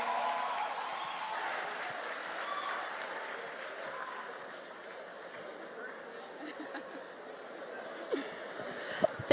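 Audience applause at a national forum for Black public administrators, a steady wash of clapping with crowd chatter and a few laughs, fading slightly midway and rising again near the end.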